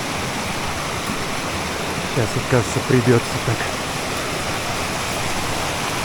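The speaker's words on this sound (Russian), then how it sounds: "Водопад уже ближе." A waterfall's steady rushing roar fills the whole stretch, and someone speaks briefly over it partway through.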